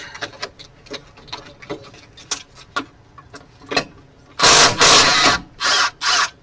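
An impact wrench drives starter bolts on a Ford Festiva. Light ratcheting clicks lead into several loud, close rattling bursts near the end.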